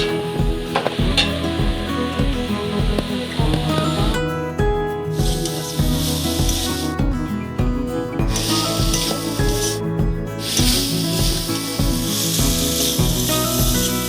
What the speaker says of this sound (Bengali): আলুগুলো দেওয়ার পর আমরা মিনিট 5 মতো ভালো করে কষে নেব।